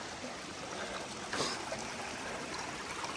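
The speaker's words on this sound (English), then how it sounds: "come across this stream right here" A mountain stream on the Appalachian Trail near Glasgow, Virginia, trickles and rushes in a steady, close wash of water, with a brief louder splash partway through and no voices.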